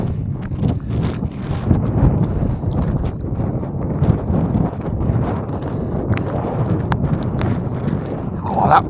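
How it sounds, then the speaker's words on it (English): Strong winter wind in Iceland buffets the microphone with a continuous, loud, gusting roar and low rumble throughout, with no other sounds standing out. "Oh, that wind. It's absolutely ridiculous."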